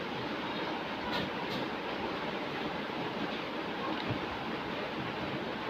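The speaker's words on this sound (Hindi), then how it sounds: "बारिश हो रही है" Steady rain falls outside, a dense, even hiss that stays loud and unbroken throughout, with no voices.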